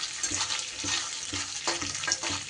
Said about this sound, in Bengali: এই নারকেলটাকেও একটু ভেজে নেব হালকা করে।